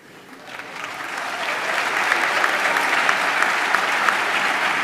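An audience applauds at a 2023 graduate commencement ceremony. The clapping builds from light scattered claps into a full, sustained wave of applause from a large crowd.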